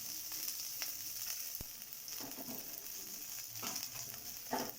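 Capsicum, curry leaves and raw peanuts frying in a pan give a steady, faint, crackling sizzle with scattered pops and occasional stirring scrapes, and no voices.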